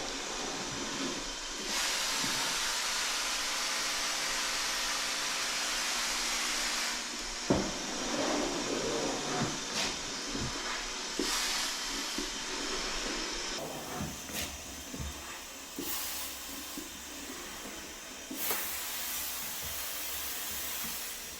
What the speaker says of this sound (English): we're gonna bring our steamer in here and try to clean up as much as we can from here